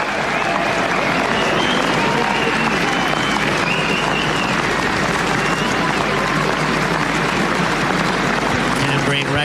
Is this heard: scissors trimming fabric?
no